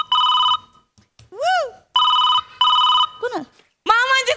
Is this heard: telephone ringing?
yes